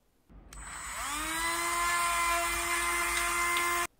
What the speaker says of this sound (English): I need to drill a bit more so that the thigh joint closes up.